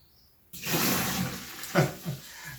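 Sugar water pours into orange juice for homemade orange wine, a short splashy liquid rush that starts abruptly, with a couple of louder splashes near the end.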